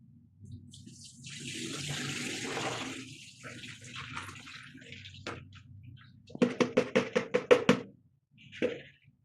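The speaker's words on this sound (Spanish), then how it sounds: "Vamos a mostrar el primer paso, que es el lavado del maíz." Running water washes a pound of threshed corn kernels in a kitchen, first as a steady rushing stream, then as a quick series of sharp knocks and sloshes of grain being stirred, ending with one last splash.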